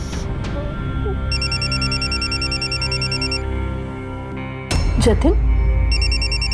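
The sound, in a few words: phone ringing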